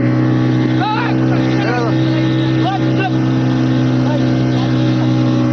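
A motorboat engine drones loudly and steadily at close range on the sea estuary at Digha, a constant low hum throughout, with a few voices talking over it.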